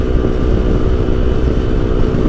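Honda ADV 150 scooter ridden on a highway, a loud, close, steady engine drone mixed with rushing wind, unbroken throughout with no talking.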